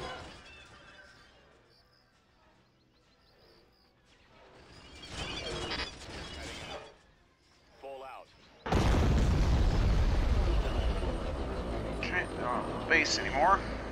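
A turret blows up in the Star Wars Empire at War Thrawn's Revenge game: a sudden loud, broad blast that stays heavy with rumbling debris and crackle for several seconds, following quieter battle noise and brief talk.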